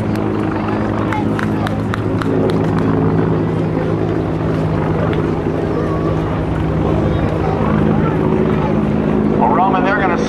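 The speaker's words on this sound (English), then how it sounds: "we have the MH-53 helicopter over top once again" Steady loud thrum of an MH-53 helicopter's rotors and engine, droning continuously overhead at the 2010 NAS Oceana Airshow, with a voice speaking over it.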